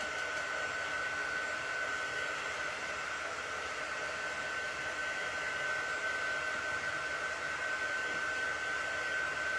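A hair dryer runs steadily and close for the whole stretch, aimed at a wet craft project, a constant loud whooshing whine with a fixed pitch and no voices over it.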